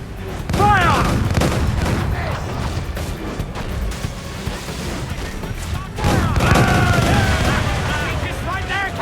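Cannon fire in Assassin's Creed 4: Black Flag, a naval battle, booms as loud, heavy blasts in two big volleys, with shouting voices mixed in among the explosions.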